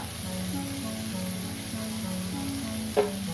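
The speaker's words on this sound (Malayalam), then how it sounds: "ഞാൻ ഇനി ഇതിലേക്ക് ചെറുതായി അരിഞ്ഞു വെച്ച തക്കാളി ചേർത്ത് കൊടുക്കുകയാണ്." Chopped tomatoes sizzle in hot spiced oil as a steady frying hiss under a sustained tonal hum, with a single sharp clack just before the end.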